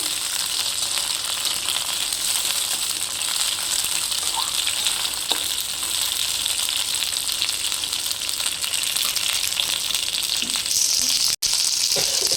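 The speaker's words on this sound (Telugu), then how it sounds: "ఇలా దీన్ని బాగా ఫ్రై చేసుకోవాలి" Red chilies and tomatoes fry hard in a pan for a chutney, making a loud, continuous close sizzle that goes on throughout with an occasional stirring scrape.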